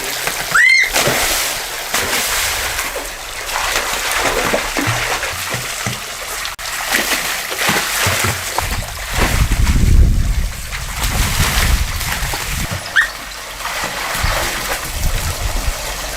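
Water splashes and churns at the foot of a steep water slide plunging into shallow water, a broad rushing wash with a heavier surge midway, overlaid by wind buffeting and scattered bumps.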